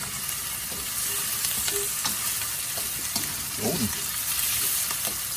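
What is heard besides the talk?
tomatoes sizzling as they are sautéed in a pan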